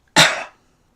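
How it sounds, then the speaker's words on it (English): A single sharp cough bursts out close and loud, then trails off within about half a second, surrounded by silence. "I might cough a lot"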